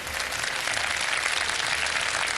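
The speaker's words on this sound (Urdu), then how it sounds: "اس کے لیے تالی ہونی چاہیے بھائی" Audience applause on a live Ramadan iftar television show, a dense steady wash of clapping filling the whole moment, with no talk over it.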